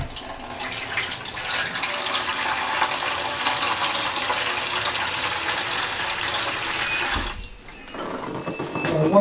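Tap water runs in a steady, loud splashing stream into a basin, then briefly cuts off near the end.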